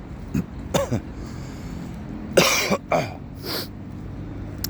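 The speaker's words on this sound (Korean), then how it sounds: "영상을 틀 때마다 항상 이렇게 어 기침을 하냐" A few rough coughs and throat-clearing sounds close by, spaced irregularly over a quiet background hum.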